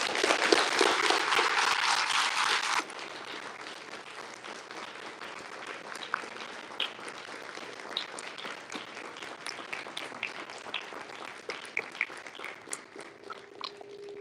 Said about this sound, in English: a rousing applause for everything that they have done for you